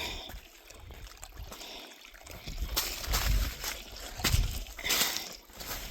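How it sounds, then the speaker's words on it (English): Water trickles and splashes softly over rocks where a small waterfall begins, a faint, uneven babbling with occasional brighter gurgles, no voices. "This is the start of that waterfall that I was at the very beginning"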